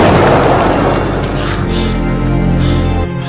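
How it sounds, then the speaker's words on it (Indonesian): A film gunshot lands as a loud booming blast that opens the moment and rings out in a long, heavy decay that fills the whole stretch. "suara tembakan yang telah didengar oleh Jezabel"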